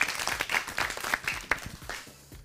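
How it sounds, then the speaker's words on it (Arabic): A group of children claps for a classmate in a studio, with a quick, uneven patter of hand claps that fades toward the end. "صفقوا حق فيصل."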